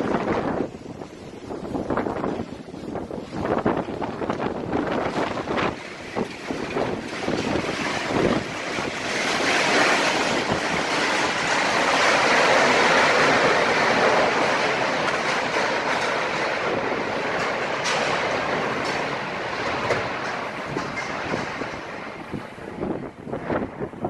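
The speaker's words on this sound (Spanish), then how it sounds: "Los vientos alcanzaron más de 100 kilómetros por hora" Strong storm winds gusting above 100 km/h roar steadily and loudly throughout, a dense broadband rush that swells toward the middle, with no voices present.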